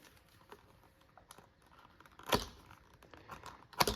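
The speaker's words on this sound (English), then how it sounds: "we're just going to cut some threads and pull this apart here" Threads being cut and a tooled leather wallet pulled apart on a workbench, mostly soft scratchy handling noises with two sharp, loud tearing bursts near the middle and end.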